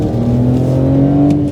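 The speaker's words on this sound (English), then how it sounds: "3-litre straight six, good strong engine" A BMW 130i's 3-litre straight-six engine hums loud and steady, a sustained rev with a rising tone and no voices over it.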